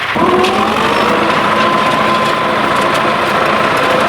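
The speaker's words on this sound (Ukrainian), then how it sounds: "ми своїм уже трактором докультивовуємо" A steady tractor engine drones loudly and continuously in a field being cultivated, a constant mechanical hum with a faint whine, with no talking.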